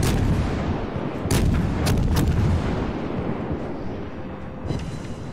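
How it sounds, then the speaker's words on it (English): Naval guns fire high-explosive shells at the battleship Myogi in World of Warships: loud, rumbling salvos with a few sharp cracks near the middle, over a constant heavy low roar of sea and engines. "I want to just keep pounding this battleship, this Myogi, with these high explosive impact inertia fuses"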